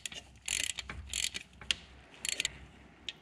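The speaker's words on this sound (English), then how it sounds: "Tighten the bolt to 24 Newton meters." Quick ratcheting clicks from a wrench tightening the timing belt tensioner bolt on a Mitsubishi Evo 6 TME 4G63 engine, sounding as a few short close bursts followed by scattered single metallic ticks.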